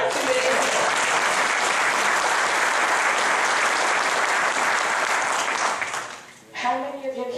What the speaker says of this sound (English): clap for them, because there aren't too many of them